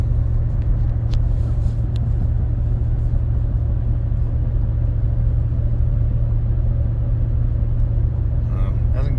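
Continuous low drone of a Ford Super Duty F250/F350 with the 7.3 Godzilla engine cruising uphill in overdrive while towing, steady and even throughout, heard from inside the cab.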